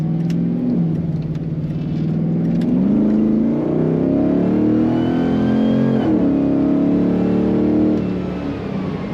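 A 1992 Chevrolet C15 Blazer pickup's engine revs and climbs steadily in pitch as it accelerates on a highway, loud and close, with a continuous road roar beneath and no talking.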